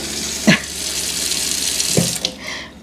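Water running steadily from a kitchen tap into a container while roselle jam is being prepared, a continuous splashing flow with a couple of brief clunks of handling.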